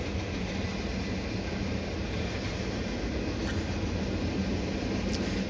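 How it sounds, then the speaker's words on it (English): Slow CSX Q634 mixed manifest and garbage freight train passing with many tank cars, a constant heavy rumble and clatter of wagons, close and loud, with a few faint high squeals. "We got a CSX coming finally."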